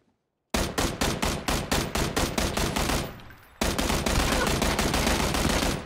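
Gunfire in the PUBG video game opens with a quick run of about a dozen sharp, evenly spaced shots, pauses briefly, then turns into a dense, sustained burst, all loud and close with no talk.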